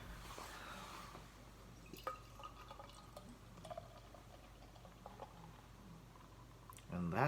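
Citra and Simcoe IPA beer poured into a glass, faint continuous liquid trickling with scattered small drips and clinks throughout, ending in a louder burst of fizzing or handling, with no voices heard.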